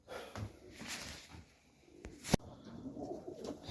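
Soft, low cooing from pigeons in a backyard loft on a cold, crisp morning, faint and somewhat distant, with a sharp knock partway through.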